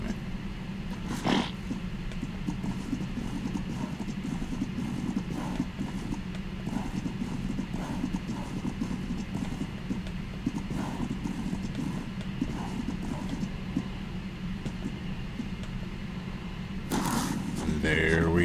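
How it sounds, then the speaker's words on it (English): Horse hooves in a Viking video game clip-clop steadily and rhythmically throughout, with a sharper burst near the end, while a person talks over the sound. "There's our mystery horse."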